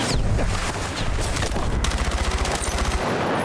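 Shotgun fire in Battlefield 6: loud, close blasts amid a dense, continuous battle din with rapid repeated shots and booms.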